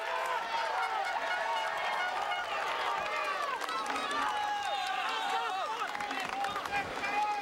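Roadside crowd at the 2013 Paris-Roubaix cycling classic, a dense continuous roar of cheering, shouting and whistling voices, loud and steady throughout.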